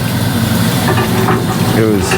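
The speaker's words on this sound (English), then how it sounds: "It was like hot where it's sizzling as soon as it hit the water." Steady hissing sizzle of hot aluminum machining chips quenched in water, a continuous crackling wash with faint background noise and no voices.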